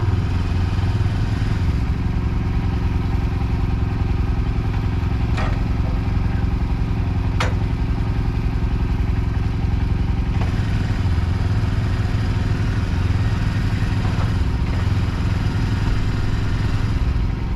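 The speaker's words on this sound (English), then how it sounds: "Now we're gonna get the four-wheeler in place." Four-wheeler ATV engine running steadily while being moved into place at an off-grid cabin build, a loud continuous idling rumble with a couple of brief clanks over it.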